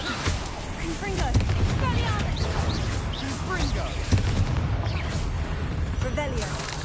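A Confringo fire spell in Hogwarts Legacy on PS5 bursts with repeated booming blasts over a dense, crackling rumble.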